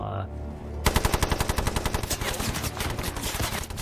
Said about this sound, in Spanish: él ordenó a uno de los suyos disparar con una ametralladora a Bren